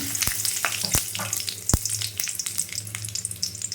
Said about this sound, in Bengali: তেল গরম হয়ে গেছে, সাদা জিরে, শুকনো লঙ্কা, তেজপাতা ফোড়ন দিলাম।